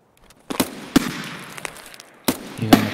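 Gunfire in Escape from Tarkov: a few sharp, loud shots spaced irregularly, with two close together near the start and two more later, each echoing briefly.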